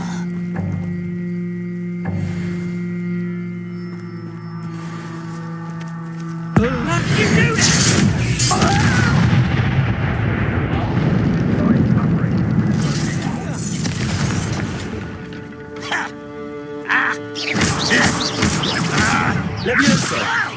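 Spell-casting effects from Hogwarts Legacy: magical whooshes, booming blasts and crashing impacts erupting in quick bursts over ambient game music, with a voice calling out spells.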